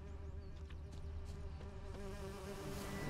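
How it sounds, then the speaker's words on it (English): Bees in The Witcher 3 video game buzz steadily at low volume, a continuous droning swarm with a faint sustained hum beneath. "Here's the bees."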